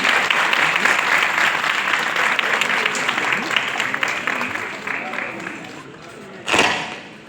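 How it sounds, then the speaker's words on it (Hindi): An audience at a Pandit Birju Maharaj birth anniversary celebration applauds to welcome Uttar Pradesh's Minister of Culture and Tourism. Sustained, dense clapping gradually thins, and a single sharp thud sounds near the end. "आइए हम सभी तालियों की गूंज से उनका हार्दिक स्वागत करते हैं।"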